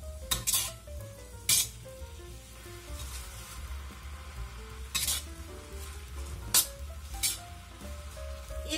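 Napa cabbage stir-fried in a wok, the stems releasing water: a steady moist sizzle runs throughout, broken by repeated sharp scrapes and clanks of a spatula against the pan, loud and close, with no one talking.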